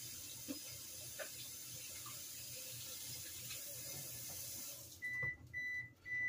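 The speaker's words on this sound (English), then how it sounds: "now I'm going to wash my hands right quick in just a moment." A kitchen tap runs steadily for hand washing during biscuit-muffin baking, a close, even rush of water for about five seconds before it shuts off, followed by a few light clinks.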